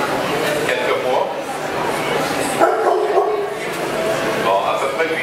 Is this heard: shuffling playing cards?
no